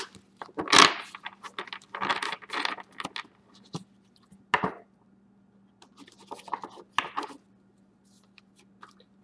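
Tarot cards are shuffled by hand in a quiet room, bursts of riffling, flicking and light slapping with short pauses between, close and fairly soft over a low steady hum.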